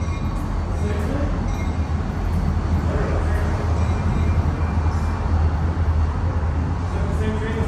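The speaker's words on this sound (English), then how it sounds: "That was a short train too." A short train rolling past nearby outdoors, a steady, loud low rumble with clattering wheels that holds throughout, with faint voices in the background.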